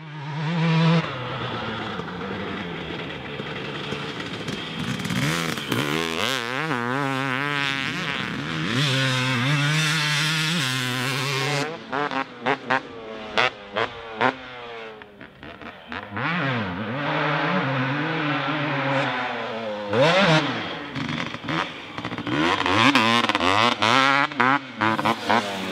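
A two-stroke motocross bike fitted with a Pro Circuit silencer runs close by, its buzzy, crackling engine repeatedly revving up and dropping back in uneven bursts across a long stretch.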